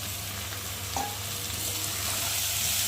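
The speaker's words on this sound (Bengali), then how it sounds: "দিয়ে ডালিয়ার সাথে মশলাটাকে একটু ভালো করে নাড়বো।" Soaked dalia with spices stirred in hot oil, a steady close sizzle with a low hum underneath and a single brief clink from the spoon against the pan.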